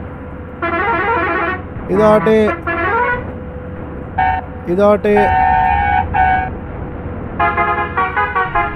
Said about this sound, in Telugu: ఆల్మోస్ట్ అన్ని హార్న్లు వేస్తాను.